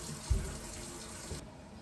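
Running tap water splashes over a pot lid being washed in a kitchen sink, a steady close wash with a couple of soft knocks before the flow cuts off abruptly near the end.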